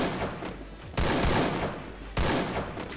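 Gunfire in a ranked match of a shooter game: loud, sharp bursts of shots break in at intervals of about a second and fade into a noisy, rattling tail between volleys, with no voices.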